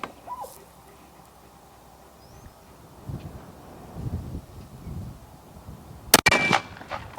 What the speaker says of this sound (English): I went through this same right hole, so you got 3 shots through the same hole down there right now